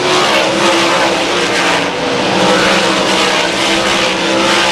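Race cars lap a short track, their engines roaring loud and continuous as they pass close by, a steady wall of engine noise with no talk over it.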